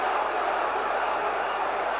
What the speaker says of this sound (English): The crowd is shouting for him.